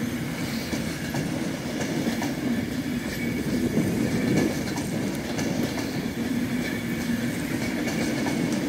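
A train at Manchester Piccadilly heading for London Euston, a steady rumble of rail traffic with faint wheel clatter, moderately distant and continuous, with no voices over it.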